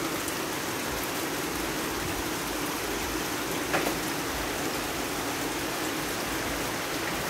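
Heavy rain pours steadily outside a home's outdoor dirty kitchen, a dense, even hiss of water on surfaces that stays loud and unbroken throughout, with no talking.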